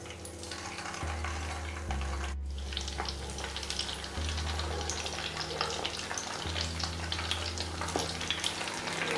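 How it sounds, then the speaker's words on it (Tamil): Rava nuggets fry in hot oil over moderate heat, giving a continuous close sizzle with a few faint pan clatters and no talking. "இப்போ நம்ம ஒன்று ஒன்று இது போட்டு பொரிச்சு எடுத்துக்கலாம்."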